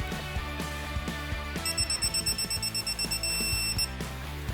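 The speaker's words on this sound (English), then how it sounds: "we'll just start tightening this down with this torque wrench, which will beep once we've reached the torque that we're looking for" A torque wrench sounds repeated short electronic beeps while a fastener is tightened during installation of a Dometic 48V FreshJet air conditioner and heat pump, with the steady pulsed tones standing out near and fairly loud over mechanical background noise.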